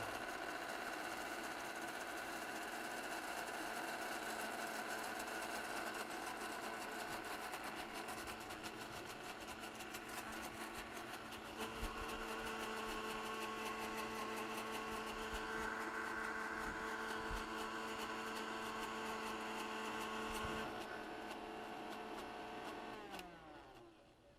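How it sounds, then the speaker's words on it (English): A kitchen blender whirs steadily, blending herb dressing ingredients in a continuous, even motor drone that hums along for over twenty seconds before spinning down at the end. "let it blend, just to be able to incorporate all those ingredients"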